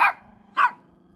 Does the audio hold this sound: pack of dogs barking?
yes